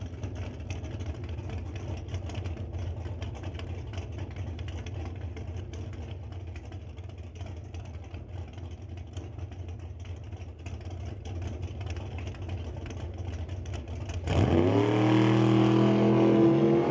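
Drag racing cars, including the Rat Torque Systems S10 Super Pro entry, rumble at a steady distant drone on the track before a loud engine roars up close and climbs sharply in revs near the end.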